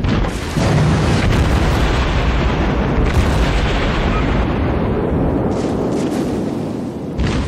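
Heavy naval gunfire from a Saint Louis class cruiser in World of Warships: continuous booming salvos and rumbling blasts, loud and close, with sharp renewed bursts partway through and near the end.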